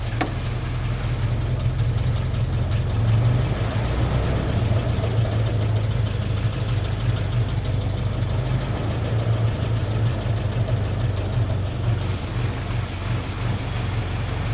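A cold Ford Model T engine idles steadily with a low, even rumble and a rapid pulsing beat, loud and close, running without interruption and with no talking.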